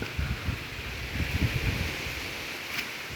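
Wind gusting across the garden of a farmhouse near Erode, a soft steady rush with low buffeting rumbles, close to the microphone and with no voices.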